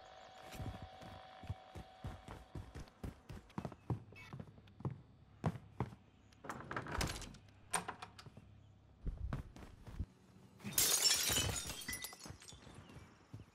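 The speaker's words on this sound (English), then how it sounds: "Is that one of you guys that broke the glass?" Glass shattering in a military shooter video game, a burst of breaking glass near the end amid scattered sharp clicks, thuds and footsteps, with no talk.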